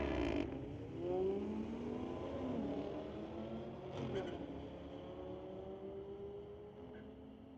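Camaros drag racing side by side at Mission Raceway on a street-legal Friday night, engines droning and rising through the gears at a distance, a steady mechanical roar with a brief surge near the start.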